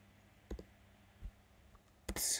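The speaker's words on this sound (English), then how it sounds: "I don't know how to type commands anymore." Keys clack on a computer keyboard as commands are typed during a Minecraft game, with a few scattered soft clicks and then a louder burst of rapid typing at the end, with no talk.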